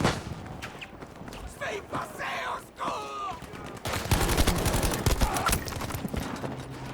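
Gunfire in the shooter game Battlefield V, with bursts of shots and battle noise building toward a dense volley in the second half, while voices talk over the action.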